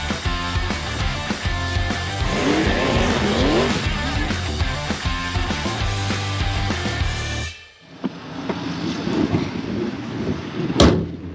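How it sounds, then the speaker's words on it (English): A 1971 Chevrolet Blazer resto-mod with a 5.3L LS V8 driving on the road, heard as a steady, loud engine drone and road rumble that dips briefly near the end before picking back up, with a sharp knock or click at the close. "now we're gonna go for a test drive in that gorgeous 1971 Chevrolet Blazer"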